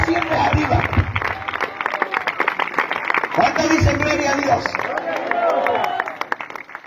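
A church congregation claps steadily for God during a sermon, a dense, sustained patter of many hands running beneath a preacher's loud voice.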